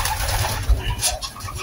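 Young pigeons coo softly inside a loft, low murmuring calls running steadily under a faint background hum, with no talking.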